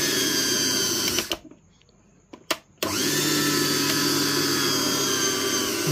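A mixer grinder motor, its screws freshly tightened to cut noise, whirs loudly and steadily, cuts out for about a second and a half with a couple of brief clicks, then starts again at full whine with no talking.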